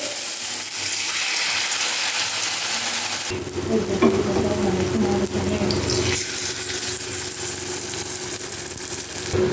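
Bottle gourd leaf pakoras in gram-flour batter with lentils hit hot oil and sizzle, a hiss that swells and thickens partway through and then stays loud and constant.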